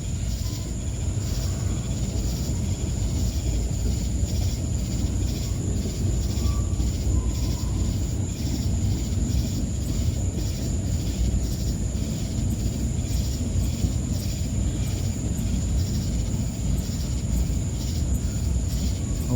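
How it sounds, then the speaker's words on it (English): A slow freight train with covered hopper cars rolls past with a continuous low rumble and rattling cars, steady and close, with faint insect chirping in the background. "There's stuff rattling on a car going through."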